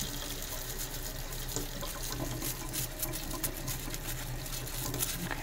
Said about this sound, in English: I'm just going to get both of those under the water.